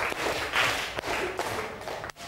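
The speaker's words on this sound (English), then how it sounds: "Class, let's give ourselves 5 big claps for working very hard." A classroom of students clapping together in a math lesson: five distinct, sharp group claps spaced roughly evenly, moderately loud and close over faint room noise.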